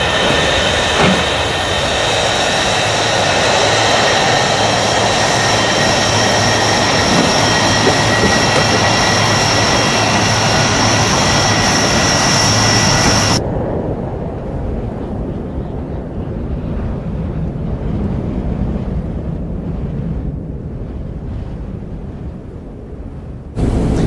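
Loud, steady airplane engine drone inside an aircraft circling above Tripoli, a constant roar that drops to a lower, duller rumble partway through, with no voices.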